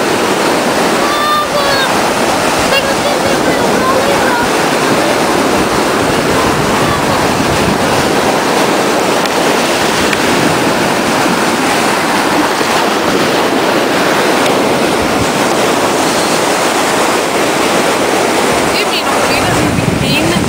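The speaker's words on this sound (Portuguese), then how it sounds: "Cuidado que aí as ondas quebram." Ocean waves break and wash on a beach in a continuous loud roar of surf, heavy wind buffeting the microphone throughout.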